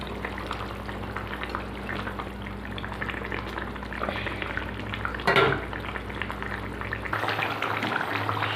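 Silver carp fish curry bubbling at a steady simmer in a pot, a continuous soft hiss and gurgle with one brief louder bubble burst midway, no talking.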